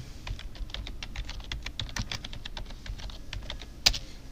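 Fast, steady typing on a computer keyboard, close up, with evenly spaced key clicks and one sharper tap near the end, and no talking over it.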